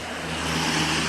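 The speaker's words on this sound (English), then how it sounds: "obviously traffic's heavy, you can see it, you can hear it" Heavy road traffic rolls past in a steady, loud wash of engine rumble and tyre roar that swells slightly as vehicles go by, with no voices.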